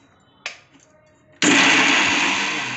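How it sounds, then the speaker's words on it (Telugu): A mixer grinder grinding spices finely for fish curry: a brief click and short whir, a pause, then the motor kicks in loud and close with a steady high whine that eases slightly as it runs. "ఇవన్నీ మెత్తగా గ్రైండ్ చేసేసుకోవాలండి"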